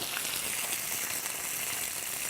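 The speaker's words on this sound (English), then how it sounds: "sear the chicken real good on both sides, cooking it for about a minute, minute and a half on each side" Chicken sears in a hot pan with a steady, even sizzle that is fairly soft and continuous, and no talk over it.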